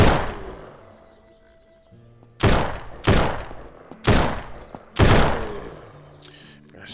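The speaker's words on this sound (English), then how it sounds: "Attracting a lot of attention with these gunshots." A new gun fires in the SURROUNDEAD zombie survival game, five sharp, loud shots spaced about a second apart, each with a short decaying tail, after a fading earlier report.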